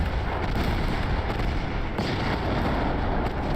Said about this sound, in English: we might score a nice torpedo hit here